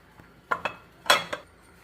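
A lid set over a bowl of resting pizza dough in a home kitchen gives a few quick, close clinks and knocks of kitchenware, two short taps followed by two more, alone in a quiet room.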